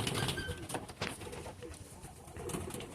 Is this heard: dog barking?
no